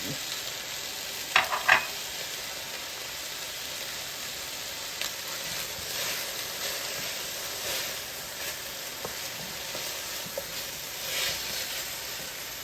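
A pork curry stew simmers steadily in the pot as parsley goes in, giving a continuous soft sizzle and hiss with a couple of brief clinks near the start.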